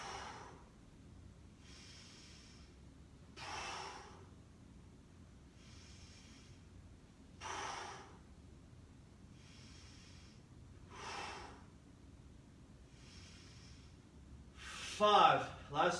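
Rhythmic breaths during a guided breathing exercise, each one a soft hiss repeating about every two seconds with louder, sharper breaths in between, ending in a burst of quick, heavier breathing.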